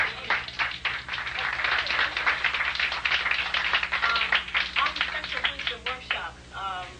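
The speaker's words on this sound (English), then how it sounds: "We want to give Dr. Jewel another round of applause." Audience applause at a workshop session, a dense, sustained patter of many hands clapping for several seconds at moderate loudness, with a voice starting to speak near the end.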